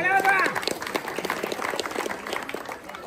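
Audience at a Holi fancy dress event clapping, a steady patter of applause from a crowd, with a voice speaking over the start.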